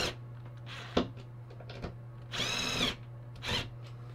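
Power drill with a set of bits, working on a LARP shield: a steady low motor hum with short, sharp bursts of the drill, one loud and longer run in the middle and a brief one near the end.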